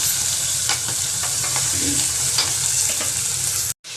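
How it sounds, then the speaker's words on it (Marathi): Peas and cumin frying in oil for soya pulao, a loud continuous sizzle with light stirring scrapes, ending in a sudden short cut. "मी वटाणा आणि जिरे टाकलेले आहेत कारण वटाणे पण आपले व्यवस्थित भाजले पाहिजे तेलामध्ये"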